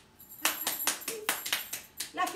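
A person clapping by hand, about nine sharp claps at an uneven pace, fairly close and clear.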